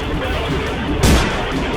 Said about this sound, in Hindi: गली में मौजूद काली शर्ट पहने एक लड़के ने अपनी पिस्तौल निकाली और हवा में गोली चला दी